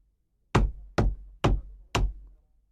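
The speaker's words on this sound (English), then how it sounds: "He walked straight to the mirror and began knocking on the wall." Four sharp, evenly spaced knocks rap on a wall at about half-second intervals, close and clear, each with a short resonant thud and quiet in between.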